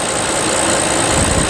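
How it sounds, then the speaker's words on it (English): The twin-turbo 6.75-litre V12 of a 2022 Rolls-Royce Ghost Black Badge runs at idle, a steady, close engine hum with no talk over it. "this is where the power comes from. 6 3/4 liter V12 engine,"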